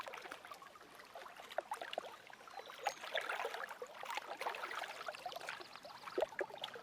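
Water flows gently in an outdoor hunting game, a soft continuous trickling and babbling, faint and steady with small splashes scattered through it.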